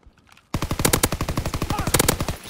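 Loud, close automatic gunfire from a shooter video game: a sudden, rapid burst of evenly spaced shots that keeps going for about two seconds, with no talking.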